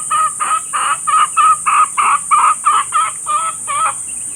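A hen that has already laid three eggs clucks close by in a rhythmic series of about a dozen short, regular calls, with no voices.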